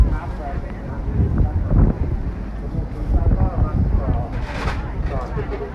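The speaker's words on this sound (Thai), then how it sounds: "เสียงลมดังแรงมากนะ ตัวตัวที่มันพัดลมเนี่ยฟู่ฟู่เลยนะ" Strong wind gusts buffet the microphone at the Khao Kho wind turbine field in Thailand, producing a loud, continuous low rumble with surging swells throughout.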